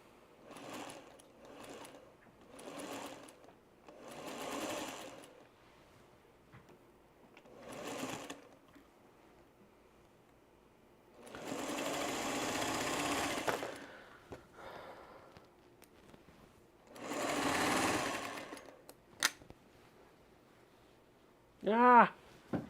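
A sewing machine stitches flange binding onto a quilt in several separate bursts of close mechanical whirring, some short and some several seconds long, with quiet gaps and a faint voice in between.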